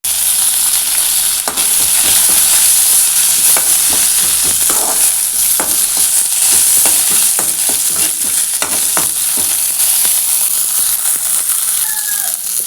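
Dried red chillies and curry leaves sizzle steadily in hot oil for sambar, a loud continuous frying hiss with occasional crackles and stirring scrapes, no voices.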